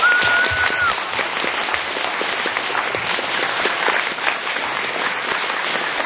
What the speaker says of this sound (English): So if we could give Jagex a round of applause.